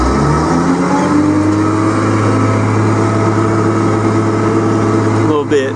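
A 1999 John Deere 748GII skidder engine runs close by with a loud, steady diesel drone and a slight shift in tone near the end.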